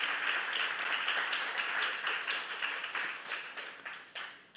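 A church congregation applauds in a steady wash of clapping that thins toward the end, with a few sharper individual claps standing out.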